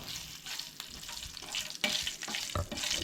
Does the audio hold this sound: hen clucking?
no